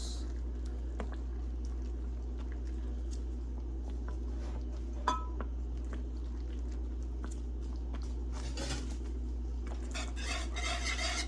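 Creamy Alfredo sauce being stirred in a pan, a steady soft scraping and sloshing of a utensil against the metal over a constant low hum, with a few brighter clinks and no talking.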